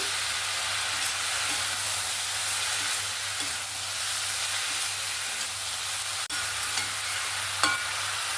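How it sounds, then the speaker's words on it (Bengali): Ash gourd stirred in a pan with turmeric and salt, a constant close frying hiss with soft, faint scraping of the spoon throughout and one brief clack. "এবার এখানে একটু পরিমাণ মতন হলুদ দিয়ে দেব আর দিয়ে দেবো একটু লবণ, দিয়ে আবারও নাড়াচাড়া করে নেব।"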